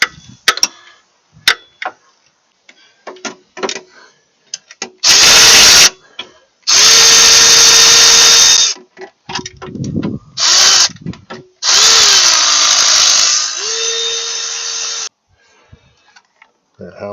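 Power tool loosening bolts on the engine of a 2013 Hyundai Elantra during a timing chain and CVVT sprocket repair: several loud sustained whirring bursts with steady and shifting pitch, separated by ratchety clicks and clanks of handling.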